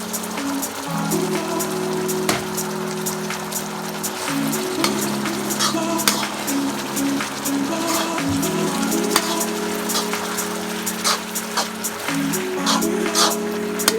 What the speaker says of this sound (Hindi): अब मैं इसमें लौकी डाल दूँगी और इसको भून लूँगी अच्छी तरह।